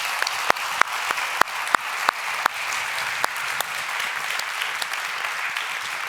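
Audience applause for a panel at the YMCA World Council engagement session: scattered sharp claps that thin out into a sparse, lighter patter as the clapping fades.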